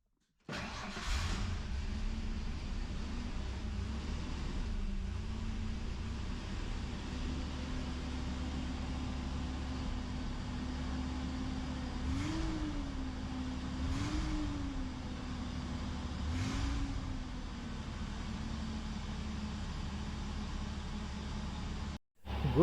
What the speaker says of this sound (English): Engine started right away.